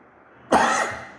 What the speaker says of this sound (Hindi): सॉरी, मेरे आजकल ना खांसी चल रही है, खांसी चल रही है।